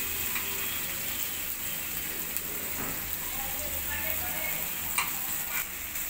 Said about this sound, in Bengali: তেল আর পেঁয়াজ দিয়ে দিলাম।